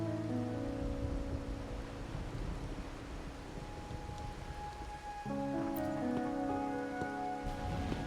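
Rain falling in the video game Wuthering Waves: a steady, dense patter of rain on surfaces with a soft wind-like hiss, continuous throughout under faint sustained background music tones.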